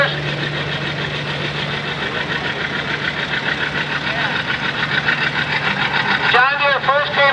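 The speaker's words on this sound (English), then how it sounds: "This is a beautiful John Deere R." A restored 1951 John Deere R diesel tractor rolls past in a threshing-show parade, its engine thumping in a steady low idle rhythm, loud and near, with someone talking over it.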